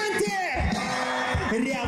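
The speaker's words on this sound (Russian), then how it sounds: "Аплодисменты!" A concert crowd at a rock show roars with cheering and applause, loud shouts and whoops rising and falling over a dense bed of noise.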